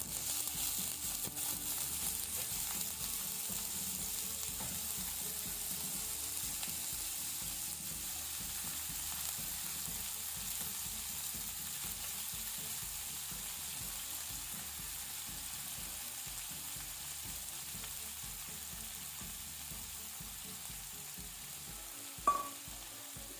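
Banana stem pieces frying in a tempering of urad dal in a pan, a soft continuous sizzle with faint scraping as they are stirred, close and even, with a brief knock near the end.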